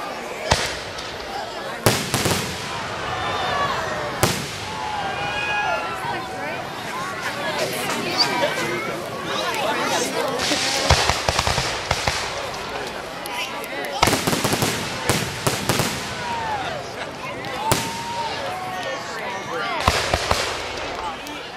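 Fireworks burst at a night display, a series of sharp booms and crackling bangs at irregular intervals with fizzing and whistling between, while a crowd chatters and people talk nearby.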